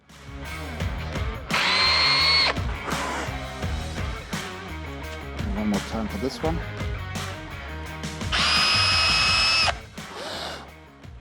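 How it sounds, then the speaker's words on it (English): Two loud bursts of a power drill boring straight down through plywood, each lasting about a second, with someone talking briefly in between. "I'm going to drill straight down."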